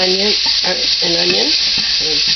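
Green peppers and onion are stirred together in a hot pan, producing a loud, even sizzle with repeated squeaky, tonal scraping strokes on top.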